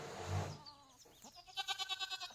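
A goat on a farm lets out a quavering, pulsing bleat after a short rustle and a low thud, sounding close and fairly quiet.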